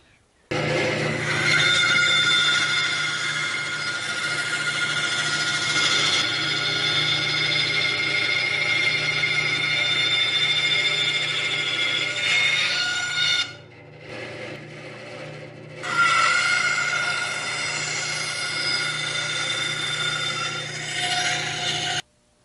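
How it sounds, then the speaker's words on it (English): A bandsaw cuts axles from a scrap piece of pine with a loud, steady whine and blade hum. It briefly drops away mid-cut, then resumes at full volume. "we're going to be cutting axles out of a nice little scrap piece of pine using the bandsaw"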